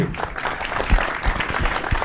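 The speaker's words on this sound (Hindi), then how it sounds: "एक बार जोड़ा ताली होनी चाहिए अपूर्वा के लिए" Crowd applause at a live film trailer launch event, a dense continuous patter of many hands clapping with a few louder claps standing out, steady throughout.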